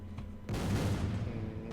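Explosions in the Rogue Trooper Redux video game: a sudden loud blast at about half a second rolls into a sustained, rumbling boom that stays heavy and close until the end.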